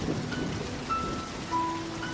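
Rain falls in a soft, steady hiss with faint patter on surfaces, heard as a quiet background sound effect for a spoken story.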